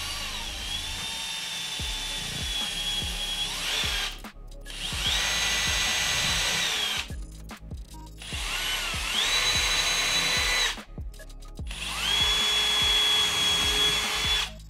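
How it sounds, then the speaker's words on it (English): A power drill bores clearance holes for M3 screws in a robot kit, four whining bursts of a few seconds each with short pauses between, the motor pitch steady then dipping slightly as the bit bites, close and with no talking. "We're gonna be making clearance holes for some M3 screws."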